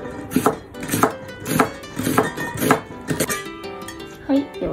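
Knife slicing half of a large onion on a cutting board, a steady run of crisp, evenly spaced chops close up, easing off near the end.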